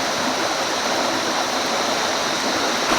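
A small creek flowing steadily at a 4WD camping spot near Coffs Harbour, a close, continuous rush and babble of water with no voices.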